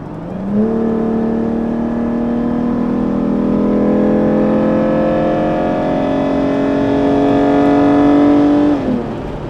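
A modded Jeep's loud engine revs up hard in one sustained pull, its pitch climbing steadily for several seconds before cutting off abruptly near the end.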